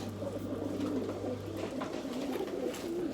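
Pigeons coo softly in repeated low, rolling phrases against a quiet background hum, no talking.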